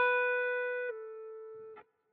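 A clean electric guitar note rings with no distortion, then a pull-off drops to a lower, quieter note that sustains briefly before a soft pick noise and silence.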